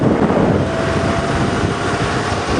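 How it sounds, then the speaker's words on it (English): Strong wind roars steadily into the microphone on an evening safari drive, a dense, continuous rumble and hiss that fills the whole moment with no voices. "But you can see that it has got very, very windy now."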